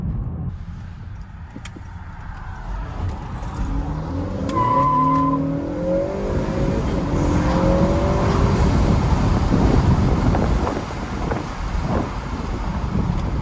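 A tenth-generation Honda Accord cruises along a road under openpilot driver assistance, with steady tyre roar and wind rumble inside the cabin. The engine hum swells gently midway, and no one speaks.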